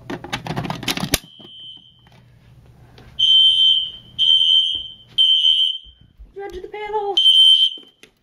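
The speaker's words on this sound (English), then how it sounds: "That alarm is loud." A fire alarm set off by a BG12 pull station sounds indoors: loud, repeated high electronic tone bursts with short gaps between them, and a lower warbling chirp near the end. Speech and rustling come just before.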